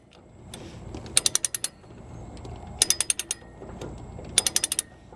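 A Durabilt ratchet chain binder with a T-handle being loosened, producing three close, crisp bursts of rapid metallic ratchet clicks, each about half a second long, over a quiet background.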